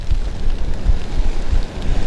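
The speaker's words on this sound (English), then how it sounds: "that rain's got on us" Steady rain and gusting wind at an outdoor pairs fishing match in Hornsea, a loud continuous rush with low buffeting rumbles from the wind.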